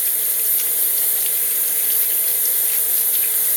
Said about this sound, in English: run it over cold water, under cold water